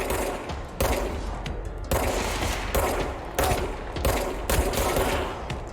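Enemy gunfire in the video game Control rattles in steady rapid bursts, dense and loud, with brief breaks between volleys as shots come through windows.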